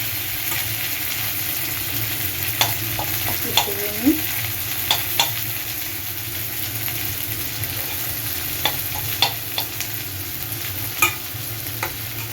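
Chopped curry leaves frying in a pan, a steady close sizzle with scattered sharp crackles and occasional stirring scrapes, no voices.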